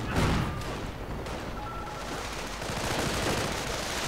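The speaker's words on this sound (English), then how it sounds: "Grenade goes off." Grenade blast amid dense gunfire in a World War II strategy game battle between grenadiers and riflemen, with a steady roar of rifle and machine-gun fire and scattered explosions throughout, no clear single burst standing out.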